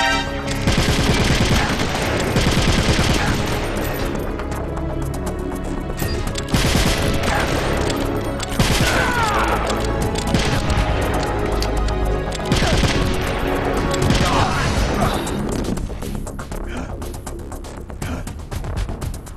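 Sustained full-automatic fire from a FAMAS rifle in the game Metal Gear Solid: The Twin Snakes, loud dense bursts of rapid gunshots filling the whole stretch with little pause.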